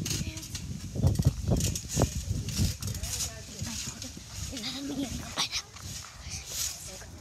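A dog in the Roblox game Adopt Me barks and whimpers a few times amid game clatter, while people talk over it throughout.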